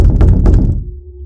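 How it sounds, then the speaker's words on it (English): Two dull thumping knocks on a door, close and solid, followed by a faint lingering hum. "This man knocking on the door talking about some..."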